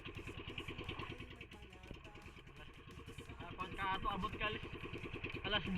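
A small loaded boat's engine chugs steadily on the sea, a rough mid-pitched motor drone under someone talking.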